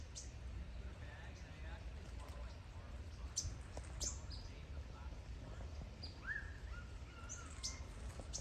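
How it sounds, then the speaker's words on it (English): Yellow-rumped warblers in Southern California in autumn giving scattered brief high chip notes, faint and intermittent over a steady low outdoor rumble. "you can hear, and see if I can get one in view here, the yellow-rumped warblers are back."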